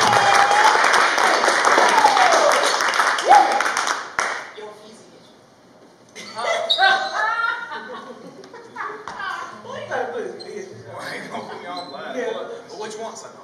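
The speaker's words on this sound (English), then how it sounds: "So clap him up." At an open mic night, an audience claps loudly for about four seconds for a performer. The clapping then cuts off, and scattered talk and laughter follow.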